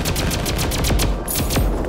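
A ray gun in the Roblox game Flag Wars firing rapid repeated shots in a loud, dense, continuous burst, close and without talk.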